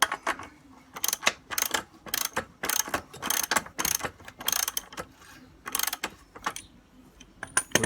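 A ratchet with a 34 mm socket works on the rear axle nut of a motorcycle, giving repeated bursts of sharp clicking strokes in an uneven rhythm, close and clear with no talk.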